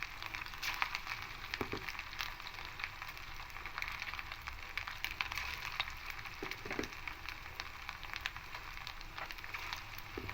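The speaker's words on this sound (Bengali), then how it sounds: "ছোটো ছোটো বলের মতো করবো আর তেলের মধ্যে দিয়ে দেবো" Small balls of leftover-rice pakora batter fry in hot oil over medium gas, giving a faint, steady crackling sizzle with a few soft pops and no talk.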